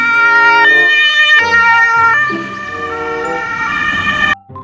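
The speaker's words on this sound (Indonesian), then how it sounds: "ini mobil ambulan" A toy ambulance's electronic siren plays a loud, wavering two-tone melody with stepped pitch changes, close to the microphone, then cuts off abruptly near the end, with no voices over it.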